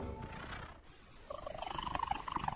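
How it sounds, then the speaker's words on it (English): A domestic cat gives a loud, urgent, high-pitched solicitation purr that swells into rhythmic pulses after a quieter, rumbling start, heard close up with no speech. "Recent research discovered a second type of purr that cats use."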